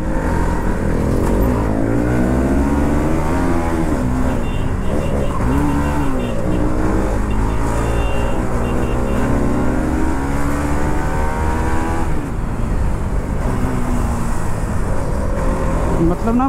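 A KTM RC200 and a Bajaj NS200 race along a street, their engines droning loudly and continuously, rising and falling in pitch with throttle and gear changes, heard close from a rider's position with a voice talking over the noise.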